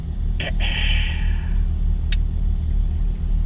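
A mid-engine Chevrolet C8 Corvette rumbles steadily at a track, its deep, loud low-end drone running throughout, with a couple of brief high chirps over it.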